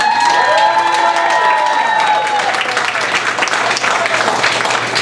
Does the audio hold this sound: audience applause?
yes